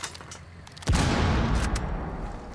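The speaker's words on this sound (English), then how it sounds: "Here, let me throw a grenade in there." A grenade goes off in the video game Rainbow Six Siege, a sudden loud blast that follows a few seconds of quieter game sound and leaves a sustained rumbling roar.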